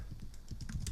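Rapid typing on a computer keyboard while writing an SQL query, a dense run of close key clicks with no talk.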